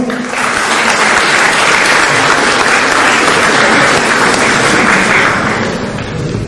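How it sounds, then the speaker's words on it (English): Large audience applauding itself at the close of an embryology talk, dense loud clapping that holds steady throughout and fades briefly near the end. "So give a round of applause for yourself."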